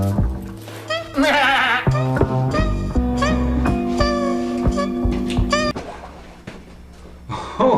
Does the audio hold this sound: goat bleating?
yes